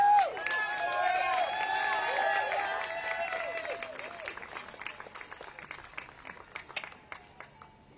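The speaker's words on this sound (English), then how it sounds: "Give a big round of applause to all the survivors and all the victims and all the supporters today" Applause and cheering from the crowd at a Washington news conference with Epstein survivors, a dense wash of clapping with raised voices over it, loud at first and then thinning out.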